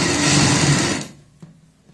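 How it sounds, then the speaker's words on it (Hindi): A sewing machine runs a seam along the edge of a kurti neckline, a loud steady whirring hum for about a second before it stops, followed by a faint click. "किनारे से हल्की सी चौड़ाई वाली सिलाई लगा रहे हैं हम।"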